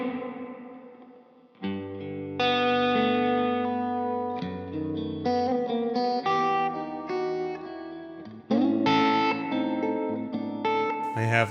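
Electric guitar played through a plate reverb pedal: sustained chords and picked notes ringing into long, shimmering reverb tails that keep building and overlapping, loud and close, with no talking.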